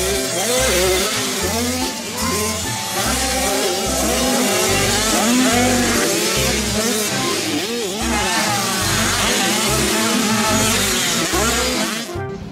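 A motocross motorcycle revs repeatedly, its engine note rising and falling in loud, close bursts for several seconds before cutting off abruptly at the end.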